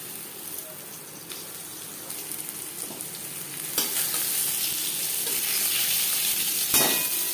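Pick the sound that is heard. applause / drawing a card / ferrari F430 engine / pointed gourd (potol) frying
pointed gourd (potol) frying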